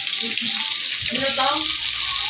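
Garlic and onion crackle in oil in a pot for sautéed sweet potato leaves, a bright steady hiss throughout with a brief murmuring tone midway.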